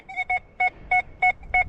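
Metal detector target tone on a detecting hunt at an 1700s home site: six short, evenly paced two-pitch electronic beeps, clear and close with no talk.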